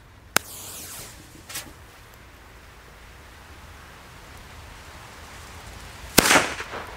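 Two sharp German firecracker bangs, one early and a louder one near the end, each with a brief crackling tail, over quiet outdoor background.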